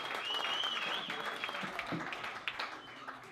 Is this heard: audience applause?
yes